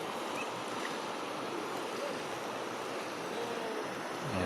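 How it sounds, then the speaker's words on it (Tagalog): A river swollen by Typhoon Uwan rushes past in a strong current, a dense unbroken roar of water close by with some wind buffeting the microphone and no voices. "Nakakatakot to mga kakosa kasi ang lakas ng agos."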